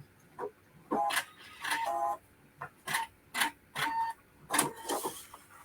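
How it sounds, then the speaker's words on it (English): A sewing machine stitching fabric for a shoe bag, running in short separate bursts of quick mechanical whirring and clicking, close and fairly quiet, with pauses between each run. "When I get up to my other stitching, I'll join it, overlap a few stitches, and do a little reverse and do a selective thread cut."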